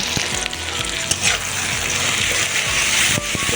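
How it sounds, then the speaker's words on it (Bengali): Onion frying in a pan with ginger-garlic paste stirred in for a village-style desi chicken curry, a steady close sizzle with scraping stir noises throughout, no talking. "আদা রসুন বাটা দেওয়ার পরে ভালো করে আবারও কষিয়ে নেব।"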